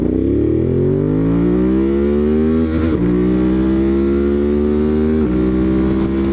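A 2023 Ducati Monster motorcycle accelerating hard in Urban riding mode, its loud, close engine note climbing steadily in pitch with two brief dips at gear changes before rising again.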